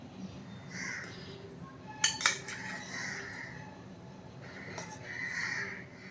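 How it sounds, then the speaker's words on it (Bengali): Hilsa fish being flipped in a pan for steamed ilish bhapa, with a few quick, faint metal utensil clinks against the cookware in a quiet kitchen and no voices. "এবার মাছটাকে আমি উল্টে দিচ্ছি"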